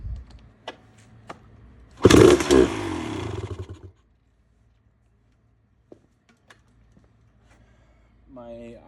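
A restored 2001 Honda CR250 two-stroke motorcycle fires up after its first start, a loud, close burst of raspy engine revving lasting about two seconds before cutting out, with scattered clicks and a brief voice afterward.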